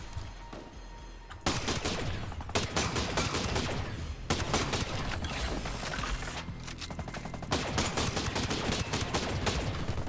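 Sustained automatic gunfire in the video game Ghost Recon Breakpoint, loud dense bursts after a quieter opening, continuing almost without pause with brief breaks between volleys.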